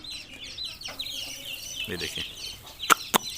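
A hen clucks to call her chicks over to eat millet, with soft repeated clucks and chick peeps mixed through, two sharp louder calls near the end, and someone speaking briefly over it.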